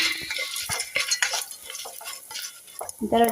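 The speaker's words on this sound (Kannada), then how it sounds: "ಇವಾಗ ಇದೊಂದು ಸ್ವಲ್ಪ ಫ್ರೈ ಆಗಬೇಕು ಎಲ್ಲ" Masala fries in oil for a dhaba-style mixed vegetable gravy made in a pressure cooker, with uneven scraping and stirring of a spoon against the pot over a soft sizzle, close and busy.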